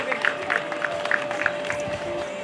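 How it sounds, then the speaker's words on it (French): An outdoor audience at the Isola 2000 enduro mountain bike podium gives scattered, moderate applause, with a few distinct claps over a steady tonal hum and low crowd murmur. "On peut applaudir s'il vous plaît nos valeureux VTTistes"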